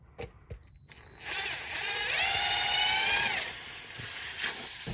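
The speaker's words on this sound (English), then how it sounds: "You can already hear the air coming out." Air hisses steadily out of a Ford F350 dually truck tire during plugging, starting after a few clicks and continuing loud and close with a wavering whistle riding on top.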